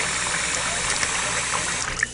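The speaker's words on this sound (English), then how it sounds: "just add some water into this lovely rice cooker container" Water pouring from a tap into a rice cooker container holding rice, a steady close splashing rush with no talking.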